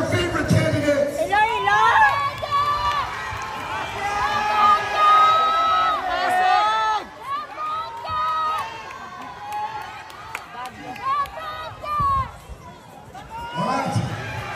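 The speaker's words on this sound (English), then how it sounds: "Now let me hear you cheer for your favorite candidate." Crowd at a Miss Universe Philippines 2024 pageant cheers and screams for swimsuit-challenge candidates, a loud, sustained roar of whoops and shrieks that surges and dips over several seconds, with a host's voice briefly audible.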